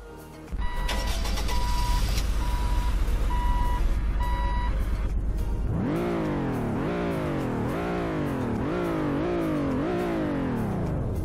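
A car in Roblox Greenville, a Sport trim with a rear spoiler, starts up with a droning idle, then revs through repeated rising and falling engine sweeps, loud and close, with no talk.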